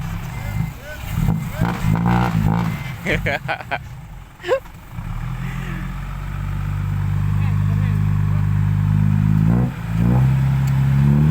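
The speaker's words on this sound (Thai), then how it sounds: "ถอยยาวยัดเข้าไปครับ" Dump truck reversing at a soil-dumping site, diesel engine revving and rumbling with clattering bursts early on, then a steady loud low engine drone that swells toward the end.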